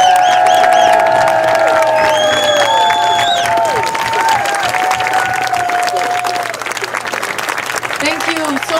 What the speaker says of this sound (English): Jill Stein, give it a big round of applause.